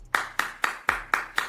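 Clap sound effect: six sharp, evenly spaced hand claps in quick succession, each crisp and close with a short fading tail.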